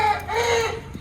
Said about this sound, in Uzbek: O'rtoqlar, bu xo'rozni qarang.